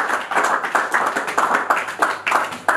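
A church congregation claps in a steady, fast rhythm, the hand claps close and loud and evenly spaced throughout with no voices heard.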